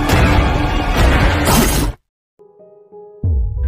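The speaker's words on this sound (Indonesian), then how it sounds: "Roma mengambil batu dan memecahkan kaca mobil." A rock smashes a car window, a loud burst of shattering and breaking glass lasting about two seconds, then brief silence followed by softer clinks and tinkling debris.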